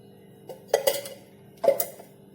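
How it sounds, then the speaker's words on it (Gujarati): A small kadai set down on a gas stove and a spoon of oil added, a few faint metallic clinks and knocks of metal on metal in a quiet kitchen. "આપણે ગેસ પર એક નાની કડાઈ મૂકીશું અને તેની અંદર આપણે 1 ચમચી જેટલું તેલ લઈશું"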